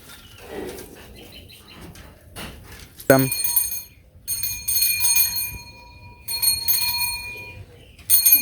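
A bicycle bell rings in several bursts of bright, rapid trills separated by short gaps, close and loud, with people talking in between.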